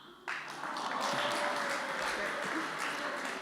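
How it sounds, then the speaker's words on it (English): Wedding guests applaud the grandparents of the bride and groom, a dense, steady wash of many hands clapping that swells in after a brief quieter moment and holds, with voices faintly mixed in. "a round of applause, everybody, for the grandparents of the bride and groom"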